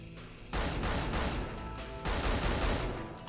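Rapid automatic pistol fire from the Auto-Mag in Unreal Gold: two loud, dense bursts of repeated shots, each lasting about a second and a half, separated by a brief pause, with no talk.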